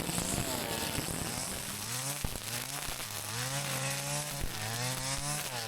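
A Stihl FS 251 string trimmer cuts through thick weeds close by. Its engine whines loudly and steadily, and the pitch rises and falls as the line bogs down and then speeds back up.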